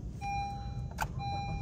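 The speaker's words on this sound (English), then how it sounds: "And the vehicle is running." A Honda car engine idles steadily after being started with a second programmed key. A low, even rumble runs throughout, with a thin electronic beep tone sounding on and off over it.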